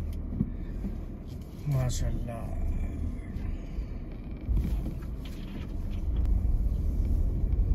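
A car in an Indian village before dawn, at the start of a road trip, rumbles low as it starts and pulls away. The engine swells louder toward the end while someone talks over it.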